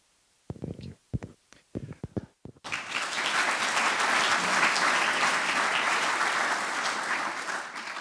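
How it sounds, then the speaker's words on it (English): An audience at a volunteer fundraiser event breaks into sustained, dense applause after a few seconds of speech, the clapping loud and steady to the end. "Would you give Josh and Joe one more big round of applause?"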